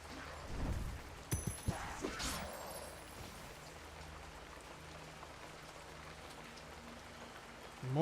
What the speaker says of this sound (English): Morning light rain.